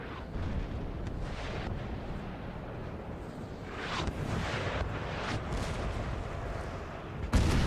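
Artillery booms through a Napoleonic battle at Friedland, 1807, in the strategy game Napoleon Total War. The dense, continuous roar of cannon fire and rumbling bursts stays loud throughout, with a sharp blast near the end.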